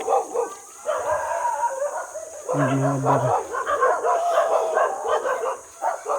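Dogs bark and howl nearby at Puray Falls, Philippines, for several seconds, a steady, overlapping chorus of yelps and drawn-out howls, with a brief voice heard over them.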